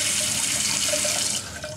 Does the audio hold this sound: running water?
yes